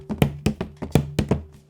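Bare hands tap on an object used as a makeshift drum, in the manner of a drum kit built from a Nintendo Switch box: about eight close, dry thunks in quick uneven pairs, alone with no talk.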